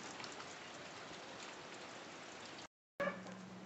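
Steady rain pours down as an even, fairly soft hiss, broken by a short cut near the end before it resumes.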